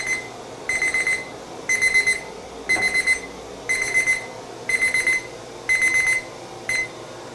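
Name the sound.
timer alarm going off during powder coat curing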